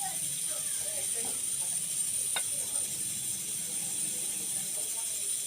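A vegetable and egg mixture sizzling in a pan with about a spoonful of oil, giving a soft, steady frying hiss, with faint stirring and a brief scrape partway through.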